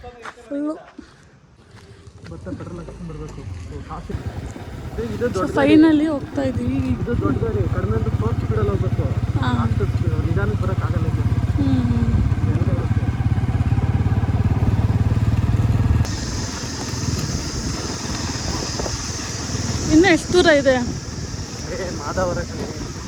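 A motorcycle engine runs through a ride near home among green surroundings, a steady low drone that holds for a long stretch under frequent nearby talking.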